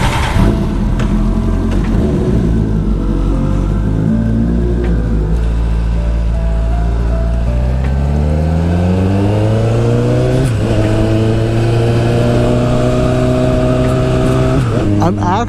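A Kawasaki ZX-10R sport motorcycle being ridden, its engine droning low and steady before revving up in a rising whine as it accelerates, close and loud, with wind rush and a rider talking over it.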